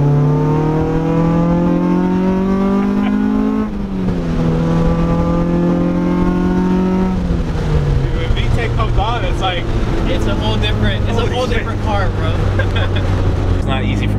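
A K-swapped Honda Integra GSR with a Vibrant exhaust revs hard nearby. The engine note climbs in pitch, drops back between pulls, then settles into a rougher, busier roar toward the end.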